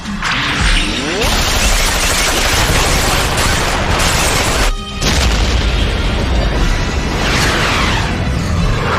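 Gunfire and explosions in an animated battle, a loud, dense barrage of blasts and bursts filling the whole scene, with a brief gap midway before the roar resumes.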